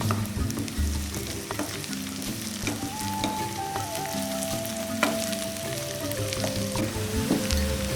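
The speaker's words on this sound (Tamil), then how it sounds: "வெங்காயம் வதங்கிடுச்சுங்க. 3/4 வதங்கியிருக்கு." Onions sautéing with a pinch of salt in hot oil, a steady dense sizzle and frying crackle with occasional stirring scrapes, close and continuous for the whole stretch with no talk.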